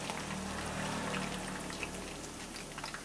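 Moong dal frying in oil gives a dense, even crackle and bubbling hiss that holds steady throughout, close and moderately quiet.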